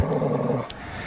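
A recorded boxer dog gives a short, gruff bark-growl lasting under a second, close and fairly loud, then cuts off.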